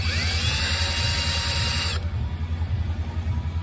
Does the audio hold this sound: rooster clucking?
no